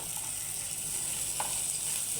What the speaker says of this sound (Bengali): এবার এপিট আর ওপিট ভাজতে হবে